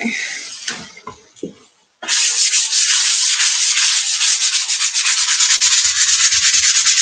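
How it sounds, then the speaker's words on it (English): Steady, close scratchy rasp of hand sanding on painted wood with a sanding sponge, starting after a couple of seconds of lighter rubbing and continuing evenly with slight back-and-forth rhythm. "Nothing crazy, just sanding it down a little bit"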